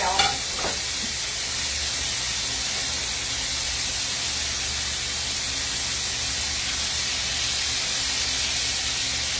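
Cube steaks browning in a pan give a dense, steady sizzle and hiss that runs unbroken for several seconds, close and loud, with a brief clatter at the very start and no talking.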